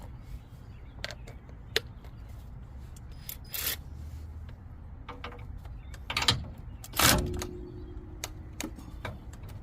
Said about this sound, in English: use a 15 wrench right here to hold it while I turn it and take it loose